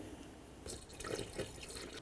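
Pre-diluted coolant pours through a small funnel into a Chevy C/K truck, a faint close trickle and splash of liquid with a few soft gurgles.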